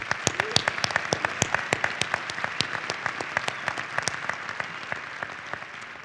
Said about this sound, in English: Another round of applause, please, for Dr. Joan Prince.